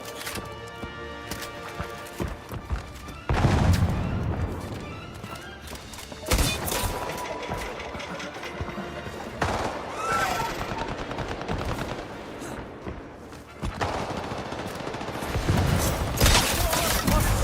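Video game gunfire rattles in repeated bursts of rapid automatic shots, loud and close, with short pauses between volleys and a busy battle din, including hoofbeats, underneath.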